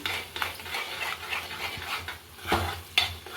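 Six beaten eggs are stirred into a fried mixture in a pan over low flame for egg rice, with repeated close scraping and clinking strokes of a utensil against the pan and a faint sizzle beneath.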